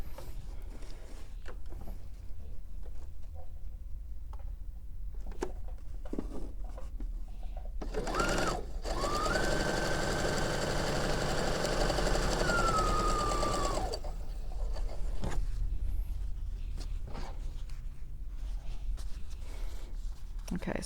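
A sewing machine stitches quilt pieces for a sampler quilt, running as a steady mechanical whir for about six seconds with a rising whine partway through. Quiet handling noises and some talk come before and after the run.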